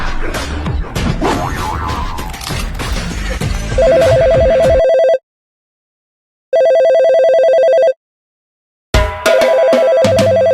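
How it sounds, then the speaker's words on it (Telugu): An electronic telephone ringtone chimes in repeated bursts separated by silent gaps, the first burst sounding over loud, busy talk and noise in a comedy skit. "అరే ఆ ఫోన్ వస్తాను చూడిపోరా."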